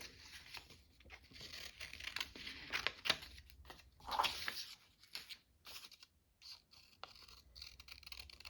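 Scissors snip and paper crinkles as a Venetian soap package piece is cut out, the close, faint scratching coming in irregular bursts with short pauses between them.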